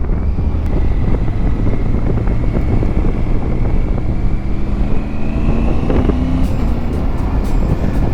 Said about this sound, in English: And going along at 60, the wind buffeting is quite good.